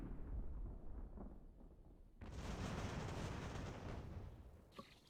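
Battle in Ultimate General: American Revolution with continuous low rumbling musket and artillery fire, one heavy burst swelling midway and a sharp crack near the end, distant and muffled.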